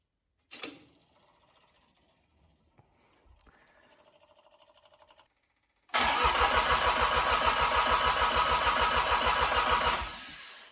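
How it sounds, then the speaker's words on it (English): A rebuilt John Deere 855 tractor engine cranks in a few faint bursts amid quiet shop noise, then catches and roars into a loud, steady diesel idle that runs for several seconds before cutting off. "let's see if this engine will start up."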